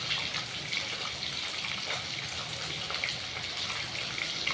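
A boti blade rinsed under a running tap in a home kitchen, with a steady broadband rush of water pouring and splashing throughout, close and fairly even, no voices.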